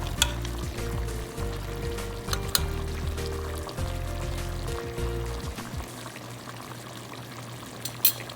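A pot of creamy Filipino-style chicken curry is stirred over a steady bubbling simmer, with soft scraping and sloshing up close that settles into a quieter sizzle, a couple of light clinks near the end, and no one talking.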